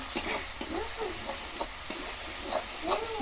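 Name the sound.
masala frying and being stirred in a pan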